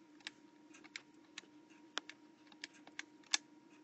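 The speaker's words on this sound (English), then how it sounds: "So we'll type in our calculator negative 76" Calculator buttons pressed one at a time to enter a division of negative numbers, about ten light, sharp clicks spaced unevenly under a steady low hum, with no talking.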